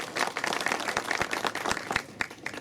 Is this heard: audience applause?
yes